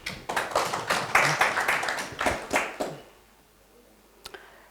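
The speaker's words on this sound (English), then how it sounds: "Please clap for yourselves." Workshop participants clap for themselves in a brief, uneven round of individual claps from a small group, lasting about three seconds before stopping, with one faint tap afterward.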